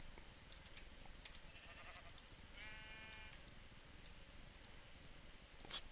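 Sheep bleating in the Minecraft video game, a single short harmonic bleat standing out against a quiet, low background hiss with a few faint clicks.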